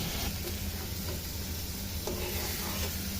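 Octopus sizzles steadily in a pan as it is stirred, an even hiss with a few soft scrapes close by.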